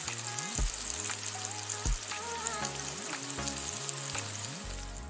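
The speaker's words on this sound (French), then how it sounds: "nous allons pouvoir mettre nos 2 morceaux de viande à la poêle" Two pieces of meat frying in a pan make a constant bright sizzle, with looping tonal music playing loudly alongside throughout.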